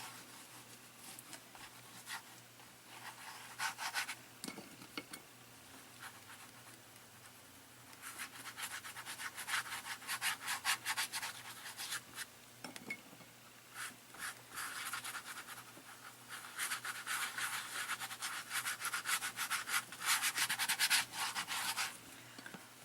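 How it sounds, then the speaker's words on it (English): Green paint rubbed by hand across a painting's surface, a steady close scrubbing and rasping in long repeated bursts, some louder than others, with short pauses between. "Once you have your green rubbed in,"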